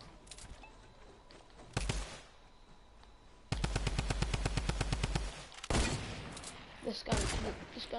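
Video game gunfire in Fortnite: a rapid automatic burst of evenly spaced shots lasting about two seconds, plus a few separate single shots before and after, close and loud, with a voice speaking in between.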